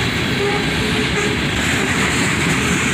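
Loaded ore cars rumble steadily past at close range, a dense continuous roar of steel wheels on rail with light rhythmic clatter.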